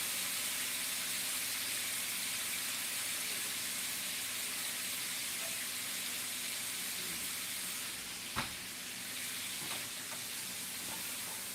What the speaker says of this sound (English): let's give it a little bit of a deglazing. That's rice vinegar.